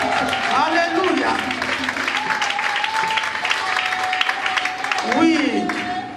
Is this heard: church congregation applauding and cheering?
yes